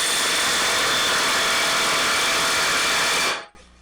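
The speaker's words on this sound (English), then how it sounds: "So now I'm going to loosen the axle nut here and then see if it wobbles." A power tool loosens the rear axle nut on a 2008 Ford Escape, giving a steady loud whirring roar for over three seconds before it cuts off abruptly.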